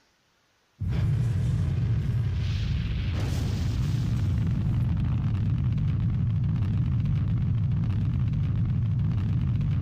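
A missile bomb in Garry's Mod detonates with a sudden loud boom, then rolls on into a sustained, heavy rumbling roar of fire that lasts to the end.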